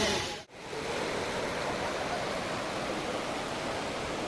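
Dudhsagar waterfall in Goa roars as a steady, dense broadband rush of falling water, continuous and loud throughout, broken only by a brief dip near the start.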